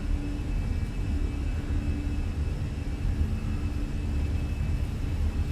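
Airbus A320 jet engines spool up to takeoff power in a flight simulator, a loud, steady low rumble with a faint constant whine above it, alone and unbroken throughout.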